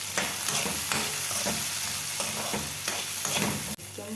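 Small capsicums frying in plenty of hot oil, a steady loud sizzle with repeated scraping stirs of a spatula at a regular pace, close by and with no talking.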